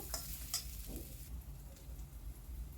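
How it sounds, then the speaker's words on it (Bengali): Chopped capsicum being stirred as it fries in a pan for dry gobi manchurian, with a couple of sharp utensil scrapes early on over a steady, faint background sizzle. "এখানে আমি একটা একটুখানি ক্যাপসিকাম দিয়ে দিলাম অল্প ছোট ছোট করে কেটে আবারও একটু নাড়িয়ে নেব"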